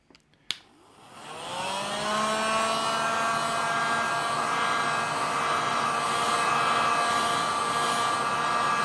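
Close by, a heat gun is switched on with a click and spins up to a steady, loud blowing whine with a rising tone, warming the rear glass of a Samsung Galaxy S9 Plus.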